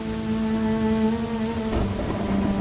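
Steady rain pours on a farmer's vegetable field in an animated story, a dense wash of drops with a sustained tonal drone running underneath and a heavier gust of patter near the end.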